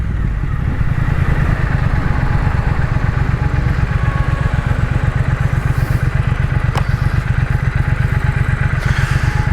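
A 2021 Triumph Thruxton RS engine thrums loud and close in a steady, rapid pulsing beat while riding through Sydney, with faint clicks and rustle over it.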